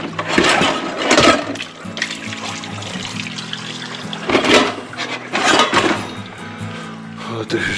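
Dishes are washed at an Adirondack campsite by Lake Eaton on a rainy day, with trickling water and several clattering splashes over a low steady hum.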